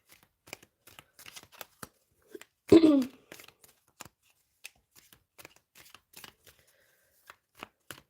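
Tarot cards are shuffled by hand in a steady series of crisp, close flicks and riffles, with one louder rustling burst midway and no talking.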